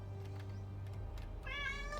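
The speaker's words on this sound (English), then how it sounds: "I heard that meow. That was such a loud meow." A house cat gives one short meow near the end, fairly faint and set against a steady hum of game audio with background music.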